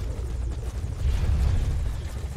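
Helicopter in the video game Metal Gear Solid V: Ground Zeroes, a low, steady rotor rumble that swells slightly partway through and continues alone without speech.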